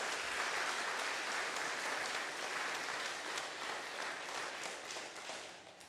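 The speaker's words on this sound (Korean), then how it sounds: "우리 박수로 환영하겠습니다." Churchgoers in a congregation clap together to welcome a visiting young woman, a warm, even round of applause filling the room and slowly easing off at the close.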